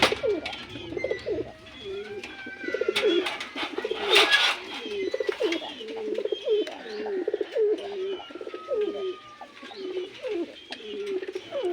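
Red checker pigeons coo repeatedly at close range in a soft, rhythmic series of low warbling calls, with faint chirps and light rustling in the background.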